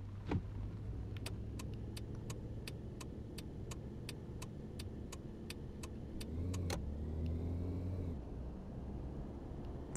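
A taxi drives through the streets of Barcelona in the video game Taxi Life, a steady engine drone with a regular run of sharp ticks like a turn signal, rising slightly in pitch near the end.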